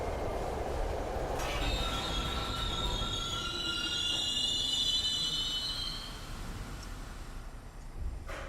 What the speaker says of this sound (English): that's the train section.